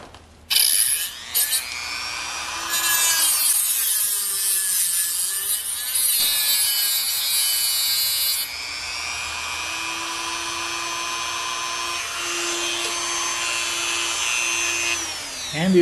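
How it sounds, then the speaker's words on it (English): A Dremel rotary tool fitted with a sharpener attachment whines at a high pitch in several bursts, the pitch sagging and recovering as it loads up, with brief pauses between runs. "Handy little sharpener. Fits on the end of your Dremel."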